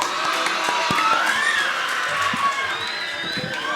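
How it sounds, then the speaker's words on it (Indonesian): A crowd of dormitory students claps and cheers, with bright shouts and whoops rising over a dense wash of applause. The burst is loud and lively throughout. "mari kita apresiasi, tepuk tangan"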